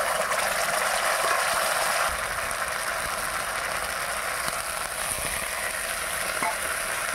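Stone-ground masala frying with lightly browned onions over a wood fire, giving a loud, steady, close sizzle that runs unbroken from start to finish with no voices.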